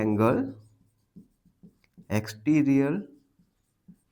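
Short, soft scratches from writing on paper during a math lesson on triangle angles fall in the gaps between a person's spoken explanation, each stroke brief and close.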